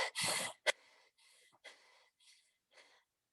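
A person imitates laboured breathing that strains the accessory muscles, with a forceful gasping inhale followed by a series of short, breathy exhales tapering off, close and fairly quiet with no talk.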